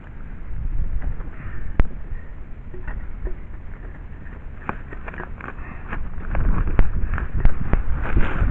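Wind blowing at a boathouse during a repair, a loud continuous rumbling buffet across the microphone with scattered knocks and thumps from work nearby, gusting stronger toward the end.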